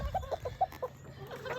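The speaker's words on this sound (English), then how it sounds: "I'm gonna feed a little hash brown to the little black chickens." Little black backyard chickens cluck softly and repeatedly while pecking at hash brown pieces, short close clucks in an uneven rhythm against a quiet outdoor background.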